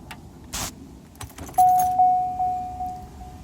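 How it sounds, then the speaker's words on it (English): Key turned in the ignition of a Mercedes 600SL with keys jangling, followed by a steady electronic chime that repeats about five times at an even pace, close and fairly loud. "So let's put on the ignition."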